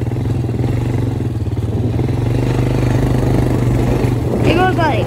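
A quad ATV engine droning steadily while riding, loud and close with a constant mid-pitched hum and rattle; a voice speaks briefly near the end.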